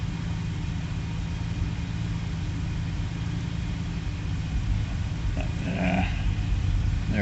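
A 2000 Jaguar XJ12 engine idling roughly with a miss, a steady low rumble and hum that falters and dips, with a brief uneven stumble near the end.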